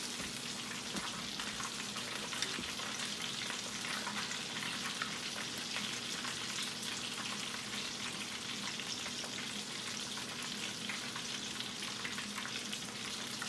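Hot Flamin' Cheetos-crusted chicken legs fry in oil with a dense, even, rain-like hiss and crackle that holds steady and close throughout.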